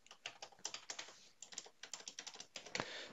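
A password typed on a computer keyboard: a quick, uneven run of sharp key clicks, close and fairly quiet, with a slightly heavier keystroke near the end.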